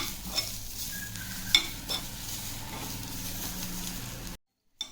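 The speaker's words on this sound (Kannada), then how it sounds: "ಸ್ವಲ್ಪ ಕೆಂಪಾಗೋವರೆಗೂ ಹುರ್ಕೊಳ್ಳಿ." Spices and ingredients for Mangalore-style chicken sukka dry-roasting and being stirred in a pan, a soft steady sizzle with a few scraping stirs and clinks, faint and close, ending abruptly.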